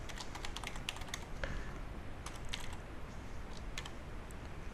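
A password being typed on a computer keyboard, with rapid, irregular key clicks at close range. The clicks come in short bursts over faint background noise, and no one speaks.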